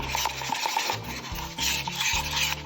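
Eco-resin mixture being stirred in a cup, a close scraping, swishing rub with repeated circular strokes and light clinks against the sides, steady and alone.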